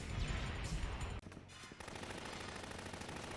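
Dense, continuous gunfire from a mecha anime battle in which a shotgun and a Sturmfaust are fired, rapid and loud with a brief break before the barrage resumes.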